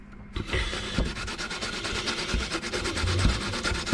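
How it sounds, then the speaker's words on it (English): Raw potato scraped repeatedly against a hand grater for Lithuanian cepelinai, a steady rhythmic rasping with soft thumps at each stroke, close and fairly loud with no talking. "this will give me kind of a stick of potato that I can then grate on the final dimension."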